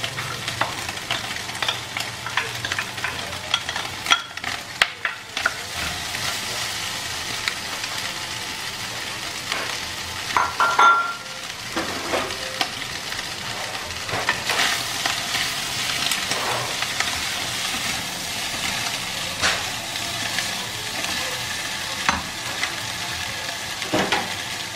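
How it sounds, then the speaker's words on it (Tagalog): Onions sautéing with sisig in a hot pan, a steady frying sizzle with irregular scraping and stirring clatter throughout, close and moderately loud, no voices. "Ngayon, sasabay na po natin yung sibuyas."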